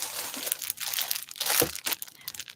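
Close-up crinkling and rustling of a plastic bag being handled, with irregular crackles and louder crunches throughout.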